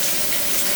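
Water runs into a film developing tank during the rinse: a brief, steady hiss of splashing water, fairly loud and close, with no other sounds.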